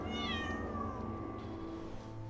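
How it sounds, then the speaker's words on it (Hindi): A pet cat meows once in a drawn-out, wavering cry over a steady low background hum, faint and alone with no talk. "उसके साथ उसके अपार्टमेंट में बस उसकी एक पालतू बिल्ली भूती रहती थी।"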